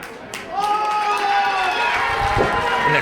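At a wrestling match, the arena crowd cheers loudly and claps steadily, a dense, continuous roar with scattered shouts rising over it.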